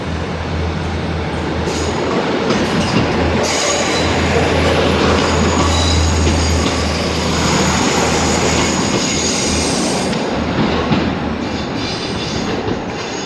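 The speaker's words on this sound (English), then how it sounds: "We've got a train taking off." A passenger train departs a station heading toward Carlisle, giving a loud continuous rolling rumble with squealing wheels and rail clatter throughout, close by and with no voices.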